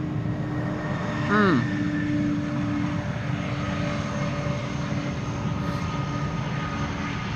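An airliner landing with idle reverse thrust, a steady distant engine roar holding throughout with a brief rising whine near the start.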